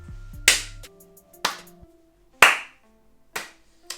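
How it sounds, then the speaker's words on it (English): One person claps hands five times, sharp isolated slaps spaced about a second apart, close and fairly loud with quiet gaps between. "Give him a round of applause, please."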